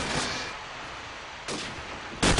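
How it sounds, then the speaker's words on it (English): Desert Eagle pistol fire in a Counter-Strike match: two sharp, loud shots about 0.7 seconds apart cut through the dull in-game background hum, the second shot the stronger. "he takes him down with the deagle"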